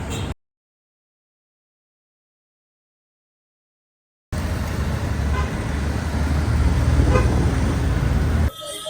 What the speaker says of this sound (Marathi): बघू शकतात गाड्या वगैरे वाहत्या तिथून